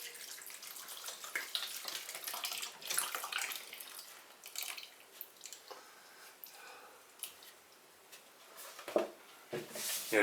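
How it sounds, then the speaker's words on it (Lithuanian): Milk with 3.5% fat pours into a pot, a close, steady liquid gurgle and splash that swells and fades over about ten seconds, with a few sharper splashes and no talking. "Dabar čia pilam pieną,"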